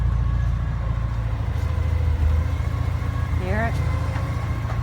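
A running Porsche 944 engine, smoky and carrying a new whine, hums steadily up close while a person speaks briefly over it.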